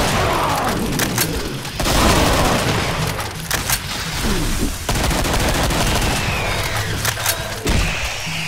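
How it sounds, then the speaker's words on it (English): Rapid gunfire from weapons in the Project Brutality mod for Doom, with loud bursts, booming shots and machine-gun rattle running almost continuously, broken by brief pauses. "Don't stop shooting those assholes until you're sure they're dead."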